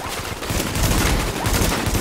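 Gunfire crackles in a firefight in the video game The Division, with rapid overlapping shots and bursts forming a dense, loud, continuous barrage.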